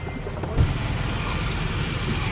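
A car engine idles steadily in a parking lot, a continuous low rumble with a brief thump near the start and no talking.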